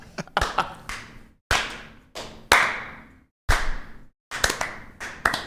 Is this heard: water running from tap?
no